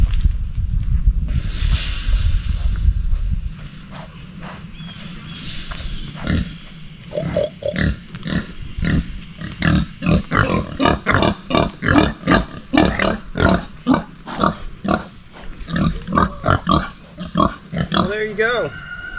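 Pigs on a homestead grunt and oink in rapid rhythmic bursts close by, growing busier toward the end, with people talking early on.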